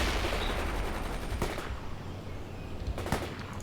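Sustained battle gunfire from the game World in Conflict, with distant machine-gun rattle and scattered shots over a constant rumbling combat backdrop, moderately loud throughout.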